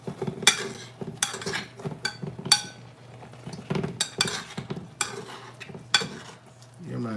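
Butter melting in a very hot pan while bammy and fish are cooked for breakfast, with a steady low sizzle under repeated sharp clinks and scrapes of a utensil against the pan.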